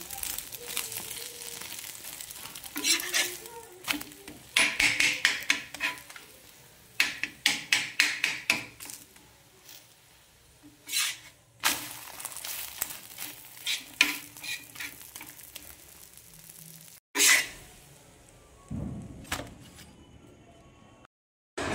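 Cooking at a home stove, with spattering oil and a spoon stirring and scraping in a pan, coming in irregular bursts of crackle and clatter and ending with a few louder knocks.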